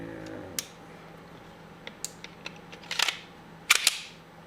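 Parts of a Rival Arms Glock 34 pistol build are fitted together, giving sharp isolated metallic clicks and snaps, sparse at first and then clustering into a louder rattling burst near the end, close up with no talking.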